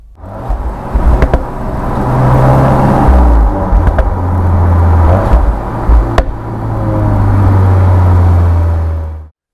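A VW Tiguan R SUV engine hums and rises in pitch as it accelerates, with a loud, steady drone and a few gear-change dips, heard from inside the car without talking.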